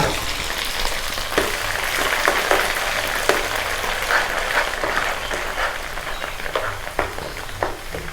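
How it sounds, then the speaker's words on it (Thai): Ground ginger frying in hot oil gives a steady, dense crackling sizzle that runs throughout, close and fairly loud, with a few sharper pops and faint stirring scrapes. "หลังจากนั้นเราก็จะมาทอดขิงนะคะ"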